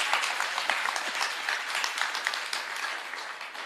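Audience clapping at a Vedic seminar celebrating a swami's birthday, a sustained burst of many hands applauding, loud at first and gradually easing, with no speech over it.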